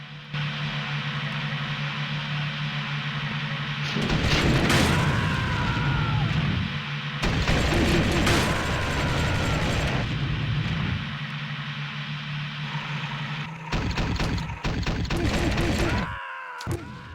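Mortar fire and explosions in the 1999 video game Army Men 2 come as loud booming bursts in several clusters over a steady engine-like drone, with whistling descents between impacts.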